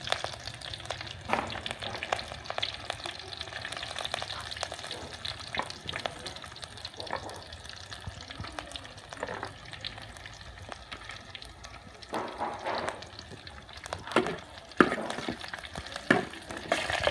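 Chicken with holy basil stir-fried in a pan, the oil crackling and sizzling steadily while a utensil scrapes and clatters against the pan at close range, with louder stirring bursts toward the end.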